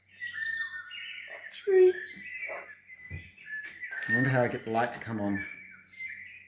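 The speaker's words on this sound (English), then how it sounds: "And the next one looks like birds." Recorded birdsong plays from a K-Mart Anko white noise speaker, bright chirps and whistled calls in repeated phrases, with a person talking over part of it.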